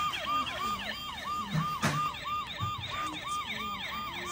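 A small toy police siren wails in rapid repeating up-and-down whoops, tinny and steady, with faint clatter in the background.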